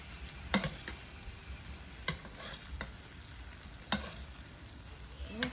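Steak basting in a frying pan, with a steady low sizzle broken by sharp spoon scrapes and spattering bursts at irregular intervals, close and alone with no talk.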